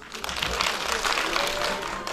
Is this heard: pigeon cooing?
no